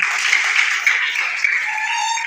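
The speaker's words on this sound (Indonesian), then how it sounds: "tepuk tangan." A class of second-grade children clapping their hands together in a classroom, a steady, continuous patter of many small hands that holds at an even level throughout.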